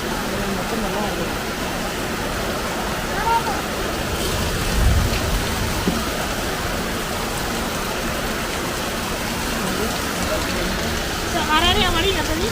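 A steady roar of heavy monsoon rain filling a yard with water, broadband and continuous, with a brief thump and some faint chirping traces above the constant downpour.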